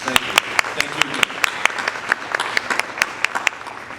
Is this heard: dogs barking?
no